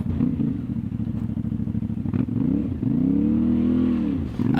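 A CF Moto 450MT motorcycle rides a muddy trail, its engine thrumming in a close, loud, pulsing idle-to-rev pattern, then rising into a smoother revving drone before easing off.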